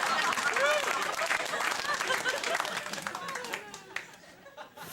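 A late-night TV studio audience bursts into applause mixed with laughter and cheers, loud at first and then tapering off as a host's voice carries over the fading claps.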